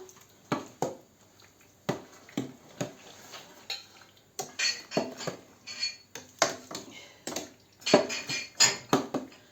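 A utensil stirs sugar into apples in a pot for apple jam, giving repeated scraping knocks and clinks against the pot in an uneven rhythm, close and fairly clear with no talk.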